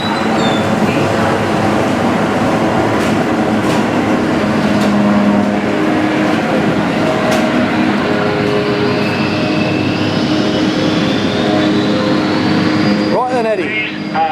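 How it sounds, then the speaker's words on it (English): Cabin noise inside a Westland Wessex helicopter, a loud, steady mechanical roar with rhythmic rotor thumps throughout, with a voice speaking over it. "whether or not you can actually hear me over the noise inside this Wessex"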